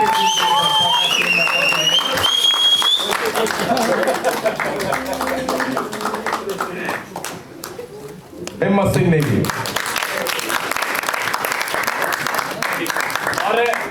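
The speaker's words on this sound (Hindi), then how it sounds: "एक बार जोरदार तालियां बजाएं" An audience at a college drama festival breaks into sustained loud applause, dense clapping that fills the room and swells again after a brief dip, while someone speaks over a microphone.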